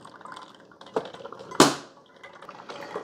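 A KRUPS Simply Brew to Go single-serve drip coffee maker brewing, with soft gurgling and dripping water, one sharper hiss or splash partway through, close and moderate in level.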